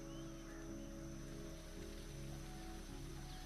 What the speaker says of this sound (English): There we go, we got the light rain.